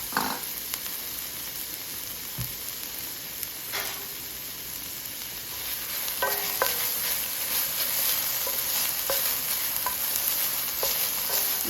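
Onions and garlic frying in a little olive oil in a hot pan, a steady close sizzle with brief clinks and stirring scrapes throughout, no talking.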